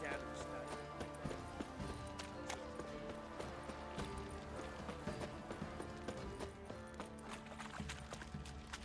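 Roach, the horse in The Witcher 3: Wild Hunt, gallops with fast, steady hoofbeats that go on the whole time, mixed into dense game music and a loud, busy soundscape, while a person talks over it.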